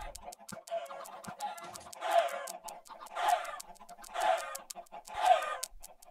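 Chickens cluck in bursts around a Minecraft chicken farm built with an egg cannon and lava trap, several loud rough calls over a background of rapid clicks.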